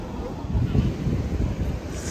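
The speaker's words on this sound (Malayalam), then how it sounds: "നല്ല കാറ്റുണ്ട് ഇവിടെ" Strong wind buffeting the microphone at a seaside temple in Bali, a low, gusty rumble that swells and eases over the couple of seconds.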